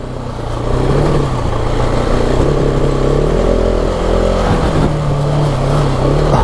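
A 2019 KTM 690 Enduro R single-cylinder dual-sport motorcycle revs steadily while being ridden, its loud, close engine drone holding a continuous pitch with brief rises and dips throughout.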